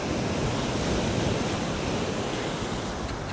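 Caribbean sea waves wash onto a beach where people are swimming, a steady broadband roar of surf mixed with wind buffeting the microphone, loud and unbroken throughout.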